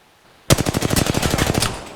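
Rapid burst of automatic gunfire in a first-person shooter video game, a loud sustained volley of evenly spaced shots lasting over a second after a brief quiet start, with no talk over it.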